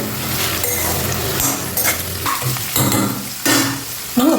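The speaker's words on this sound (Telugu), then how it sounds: "ఇవి కొంచెం వేగిన తర్వాత మరీ ఎక్కువ వేగన అవసరం లేదు" Chopped capsicum and other vegetables sizzle and fry in a pan while being stirred, with scraping and light clinks of the spoon against the pan, loud and close, with no talking.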